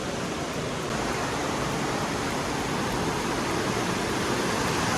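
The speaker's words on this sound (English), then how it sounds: "This is Mud Creek Falls." Mud Creek Falls in the Blue Ridge Mountains of Georgia and North Carolina gives a loud, steady, broadband rush of falling water, close and unbroken for the whole stretch, with no voices.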